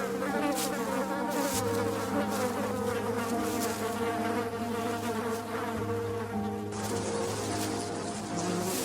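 A swarm of angry wasps in a tropical forest makes a dense, continuous buzzing drone, loud and close, with many overlapping wingbeats and no voices.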